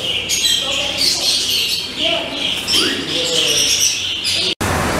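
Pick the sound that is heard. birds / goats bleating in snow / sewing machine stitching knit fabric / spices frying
birds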